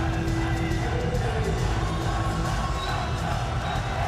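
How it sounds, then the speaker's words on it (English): Fans in the stands at a women's world championship handball match between Korea and Greenland cheer loudly and continuously, a dense roar of many voices with whoops and yells filling the arena throughout. "The fans cheering madly in the stands."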